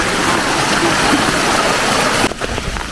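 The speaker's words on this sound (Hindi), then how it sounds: "ये देखो जंगल का नेचुरल जड़ी बूटियों का पानी, ये देखो।" Forest stream water flowing steadily with a continuous broadband rush, close and fairly loud, shifting slightly near the end.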